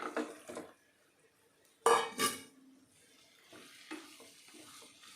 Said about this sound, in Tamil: இப்போ இந்த கறியை நல்லா வதக்கணும்.